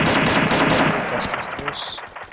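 Rapid bursts of gunfire in the Free Fire mobile game crackle loudly and continuously, with a voice speaking underneath.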